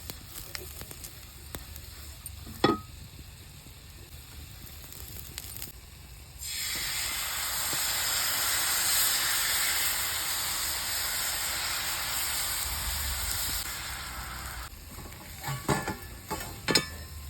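Nachni ghavne batter, a ragi crepe, sizzles on an oiled griddle in a steady loud hiss that starts abruptly and holds for several seconds before cutting off, with faint clinks around it.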